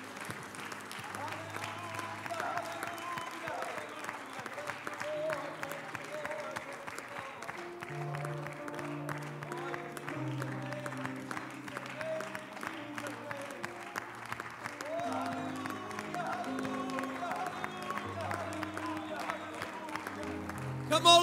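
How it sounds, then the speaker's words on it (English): A church congregation claps steadily along with worship music, producing a soft, continuous patter of many hands heard at a distance under the tones. "clap your hands unto the Lord"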